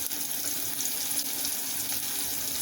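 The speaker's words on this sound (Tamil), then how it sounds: "இதை நல்லா வதக்கிக்கலாம்." Small onions sauté in a pan for a Tamil pumpkin kootu, giving a steady, close sizzle and crackle of frying that runs evenly throughout with no talking.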